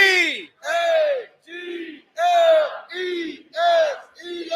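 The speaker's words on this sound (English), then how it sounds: "Is everyone ready for an Eagles cheer here?" A group shouts the Eagles football cheer in loud, rhythmic unison bursts, about seven chanted syllables with short gaps between them, close and forceful.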